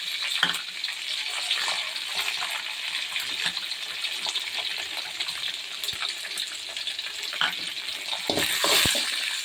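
Curry leaves and chillies frying in hot oil in a pan, a steady close sizzle with scattered crackles and pops that swell briefly near the end.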